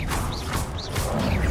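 Confringo fire-spell blasts in Hogwarts Legacy, several whooshing bursts in quick succession with crashing impacts over a dense, loud game soundscape.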